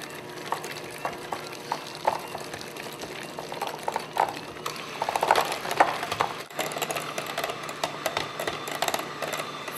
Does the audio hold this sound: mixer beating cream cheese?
yes